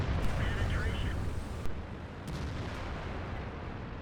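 An SP 1 C 90mm Mecar auto-cannon on a video game tank fires several booming shots over a constant low engine rumble, with a voice talking through it.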